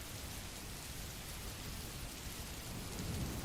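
Steady, dense rain pours down in the video game Wayfarer, a loud continuous hiss of drops striking surfaces, swelling slightly near the end.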